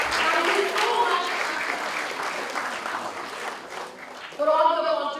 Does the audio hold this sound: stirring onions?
no